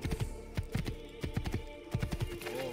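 Horse hooves clip-clop in Assassin's Creed II, a steady sequence of clear, fairly loud hoofbeats drawing nearer against a low ambient game background, with no talking.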